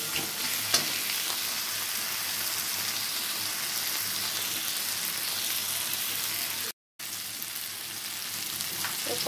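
Tomatoes frying with salt in a pan for a vegetable fish curry, a steady continuous sizzle with faint stirring, broken by one brief moment of silence.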